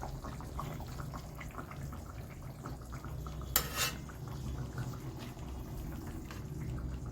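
Cooked chicken lifted out of a pot of broth in a home kitchen, with soft scraping and clinking of a utensil against the pot and one sharp clank midway, all over a steady low background hum.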